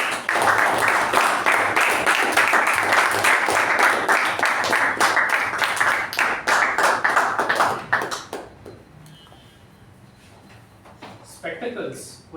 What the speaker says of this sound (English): Let's give a huge round of applause for Toastmaster